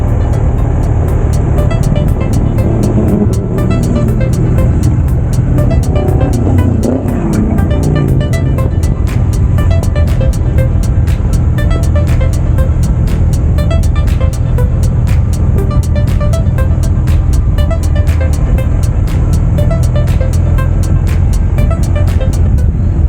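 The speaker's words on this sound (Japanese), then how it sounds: "また後方からバイクの音が聞こえてきました" Motorcycle approaching from behind on a winding mountain road, heard from a moving motorbike with constant engine and wind roar throughout; the passing bike's engine rises gradually in the mix rather than standing out clearly.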